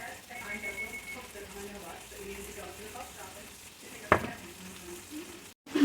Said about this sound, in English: I'm just going to sear both sides, season both sides, and then sear both sides